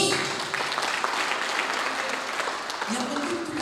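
A church congregation claps together during a Sunday worship service, a dense, steady wash of applause filling the room, with voices audible beneath it.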